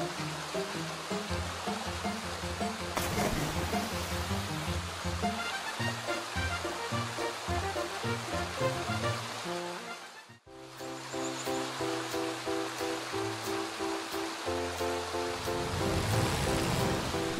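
Water flows and rushes steadily, mixed with music, with a brief dip partway through before the stream sound returns.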